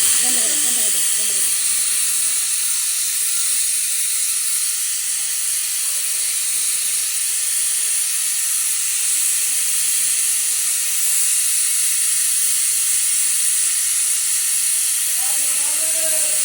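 Pressure cooker hissing steadily as it releases steam while Rajasthani laal maas mutton cooks, a continuous broad hiss running throughout, with brief talk at the start and end.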